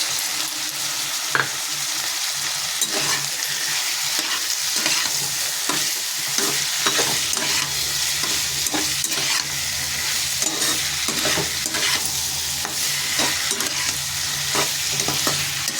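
Prawns fry in a pan under constant loud sizzling while a utensil stirs them, giving frequent scraping taps against the pan across the whole length.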